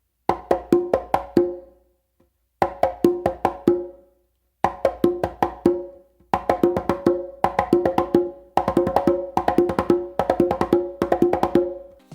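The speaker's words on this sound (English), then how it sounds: "So I start this combination with a close slap with my dominant hand and a close slap with my non-dominant hand." Conga coordination exercise alternating close slaps and open tones between both hands, sharp crisp hits in quick rhythmic bursts separated by short pauses, close and loud with no talk.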